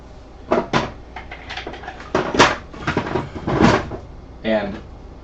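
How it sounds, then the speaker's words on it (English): A drawer opened and closed several times while putting away items at a mold-making bench, giving loud close wooden thumps and slides in irregular bursts. "we're going to put these in the drawer"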